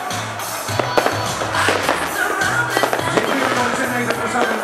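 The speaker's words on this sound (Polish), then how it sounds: "zapraszamy na fajerwerki i na specjalne sztuczne ognia, które przygotowaliśmy." Fireworks bursting at a New Year's Eve celebration on Wały Chrobrego in Szczecin, a rapid series of loud cracks and bangs with crowd noise and cheering around them.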